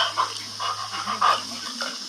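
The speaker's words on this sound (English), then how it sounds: "It actually sounds like whenever he barks, he's actually saying some of the words." A husky pants rapidly close by, with short whimpering, vocal bark-like sounds mixed into the breathing over a couple of seconds.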